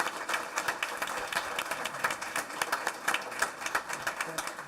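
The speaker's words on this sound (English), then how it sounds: "Please give him a big round of applause." Steady applause from a crowd at a board meeting, dense overlapping claps filling the room at moderate volume, with a murmur of voices underneath.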